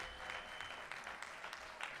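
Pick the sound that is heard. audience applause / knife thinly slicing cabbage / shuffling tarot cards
audience applause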